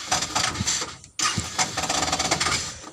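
A Suzuki Carry 10 van fitted with a Thunder 125 motorcycle engine, with a weak battery and dirty carburetor, runs loud and close with a steady buzzing rattle, briefly dipping and cutting out before picking back up.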